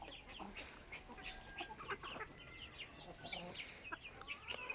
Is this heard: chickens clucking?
yes